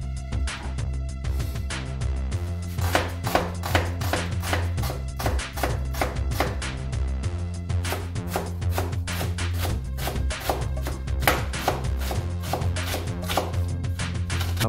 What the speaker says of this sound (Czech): Nejprve si oloupeme cibulku. Nakrájíme na drobno.